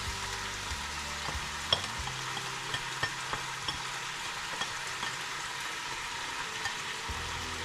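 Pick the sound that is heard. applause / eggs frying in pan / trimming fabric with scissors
eggs frying in pan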